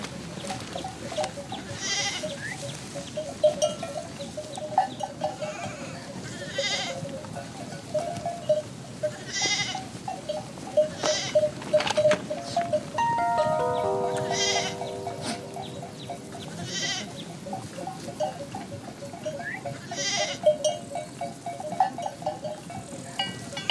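Sheep bleat repeatedly across a flock in the Vercors countryside, calls near and far overlapping at an irregular rhythm over a steady outdoor background.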